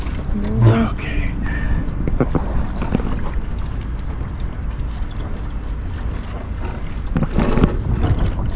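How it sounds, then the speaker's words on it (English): Strong gusty wind on a sailboat buffets the microphone in a steady roar, with occasional louder gusts and no talking. "We have a rather windy day."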